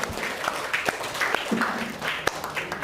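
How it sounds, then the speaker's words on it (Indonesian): An audience claps hands during a teacher training session on broadcasting and film, a dense burst of group applause with a few sharp individual claps standing out, fairly close. "Oke, tepuk tangan."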